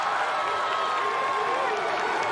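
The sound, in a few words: crowd chanting at American Ninja Warrior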